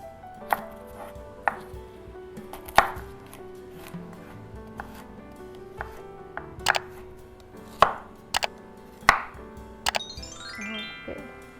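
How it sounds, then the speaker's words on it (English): A knife chops garlic on a cutting board in a dozen or so sharp, uneven knocks spread across the stretch, close and clear with quiet gaps between strikes. "And then chop the garlic."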